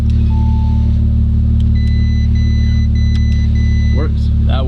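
A 2019 Audi RS5 engine, rebuilt after heavy damage, idles steadily in drive with a loud, constant low rumble throughout, while people talk over it.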